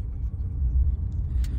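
A BYD Song Pro hybrid's combustion engine kicks in under acceleration, a low steady rumble heard from inside the cabin, fairly quiet and with no voices.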